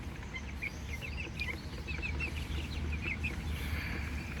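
Rhode Island Red chickens cluck softly while feeding in a backyard, scattered short calls over a low steady background hum, moderately distant and faint.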